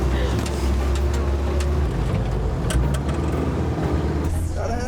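Steady engine rumble and road noise from an open World War II–style Jeep while driving, a constant loud low drone throughout, with people talking over it.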